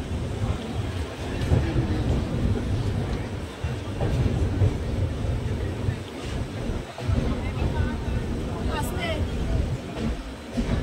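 A train rumbles steadily through a busy New Jalpaiguri junction platform served by long-distance trains, a broad, continuous roar with faint voices in the background.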